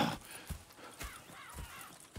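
Horse hooves clip-clopping in the Red Dead Redemption 2 video game, a steady run of distinct hoof thuds, moderately near, with faint background voices and a brief whinny-like sound.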